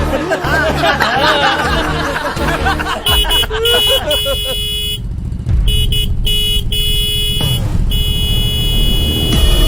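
Several car horns honk loudly amid a busy street crowd in a traffic jam, with people talking and shouting underneath and longer sustained blasts in the second half.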